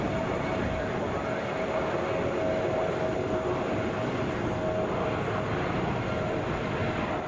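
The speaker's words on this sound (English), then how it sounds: "Taking off now, Delta 2032 headed to Louisville, Boeing 717" A Delta Boeing 717 takes off from Atlanta International Airport, a steady, broad jet roar holding at constant loudness with a faint tonal whine, with no talk.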